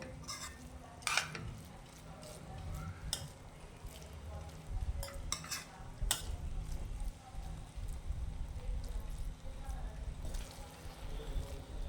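A spoon clinks and scrapes in a pan while masala Maggi noodles are stirred, giving irregular metallic taps over a soft sizzling bed, with someone talking over it.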